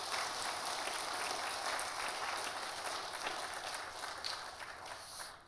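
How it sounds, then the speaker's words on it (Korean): Congregation applause during a church teachers' dedication worship service, a steady wash of many hands clapping at moderate level throughout, with no voices standing out. "박수 한번."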